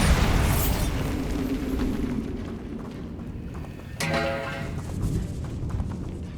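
A Bombarda explosion spell goes off in the video game Hogwarts Legacy inside a tomb, a muffled boom followed by a rumbling, crackling burst that fades, with a brief rattling clatter near the end.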